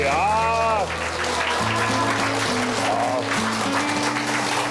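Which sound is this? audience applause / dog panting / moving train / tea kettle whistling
audience applause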